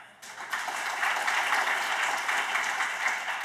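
An audience at a quantum computing panel breaks into applause for a panelist, starting abruptly after a brief quiet and holding as a steady, fairly loud burst of many hands clapping.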